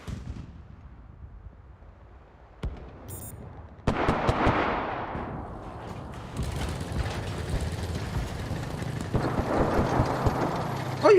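A tank in the video game Enlisted fires its cannon with heavy booming blasts among mechanical clanking and rumbling engine noise, loud and sustained, with isolated sharp reports.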